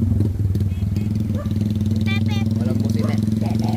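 A motorcycle engine idles nearby with a steady, throbbing low rumble that runs the whole time, while faint voices and chirps come through over it.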